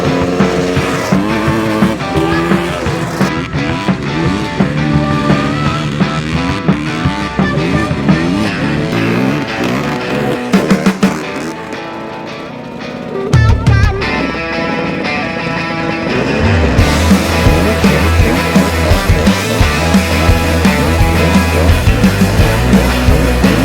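A Honda ATC 250R and a Honda FL400 Pilot three-wheeler riding side by side, their engines loud and continuous, revving up and down with rising and falling whine, close by throughout with no talk.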